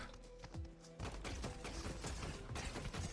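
Gunfire in the video game Fortnite, a rapid, dense barrage of overlapping shots and impacts that starts sparse and then runs continuously at a steady, moderately loud level.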